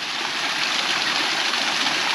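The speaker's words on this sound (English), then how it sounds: "there's this little waterfall which is quite pretty." A small waterfall at Petit Bot, Guernsey splashes and rushes steadily nearby, a constant bright hiss of falling water with no pauses.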